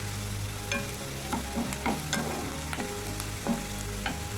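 Onions frying with curry leaves in an oily pan, a continuous crackling sizzle broken by several clear spatula scrapes and taps at an uneven pace, close and alone without talk.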